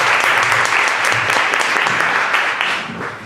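Audience applause at an academic panel on Latin American languages and lifestyles, a dense, steady clapping that fills the whole stretch at close range and tapers slightly near the end, with no voices over it.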